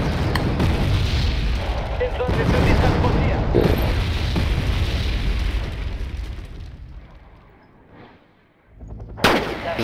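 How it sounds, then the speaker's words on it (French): Artillery fire in the real-time strategy game Wargame Red Dragon, with rumbling booms and explosions under a speaking voice, fading toward the end before a sharp burst. "On va avoir besoin d'un soutien d'artillerie aussi."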